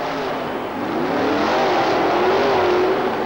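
A rear-engine Chevrolet monster truck at a USHRA event roars steadily, its engine pitch rising and sweeping through the run, loud and continuous with no talk over it.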